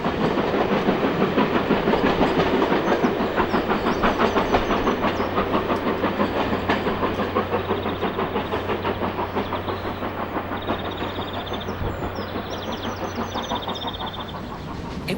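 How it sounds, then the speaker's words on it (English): A Black Five Stanier Class 5 4-6-0 two-cylinder steam locomotive running, rapid rhythmic chuffing and rail clatter close by, steady and loud with a low rumble underneath, slowly easing in intensity. "There's nothing like a powerful two-cylinder engine for making all the right noises."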